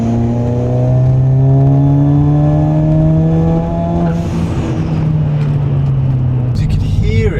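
Stage 3 big-turbo 1.4 TSI VW Scirocco GT engine on a dyno, its turbo making a faint odd noise; a loud steady drone climbing in pitch for several seconds before easing off into a lower hum, with a short burst of noise near the end.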